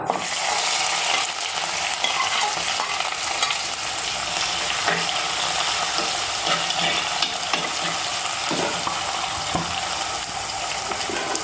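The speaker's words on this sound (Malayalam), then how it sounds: "നമുക്ക് ഇതിലേക്ക് ഉലുവ ഇട്ട് കൊടുക്കാം അല്പം ഇതിലേക്ക് ഉള്ളി ഇട്ട് കൊടുക്കാം" Fenugreek seeds and onions frying in heated oil in a pan for a tuna fish curry, a constant loud sizzle with occasional stirring scrapes and clicks throughout, no speech.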